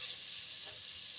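Vegetables and pasta frying in a pan with Knorr seasoning for a teriyaki prawn stir fry, giving a steady close sizzle with faint stirring, alone and without talk.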